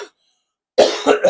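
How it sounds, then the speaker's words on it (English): A person coughs close into a microphone during a live talk stream: after a short silence come three quick, harsh, throaty coughs in a rough rhythm, loud and near. "sorry for coughing into the mic"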